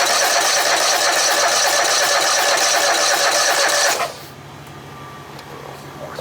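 A Poulan Pro small engine, with a little gas dribbled into it, roars loudly and steadily for about four seconds up close, then abruptly cuts out to a faint background hum.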